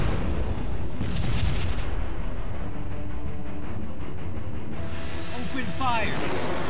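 Alliance cruiser opening fire in the space-combat game Sunrider, a steady stream of booming weapon blasts and explosive bursts under continuous game music and voices talking.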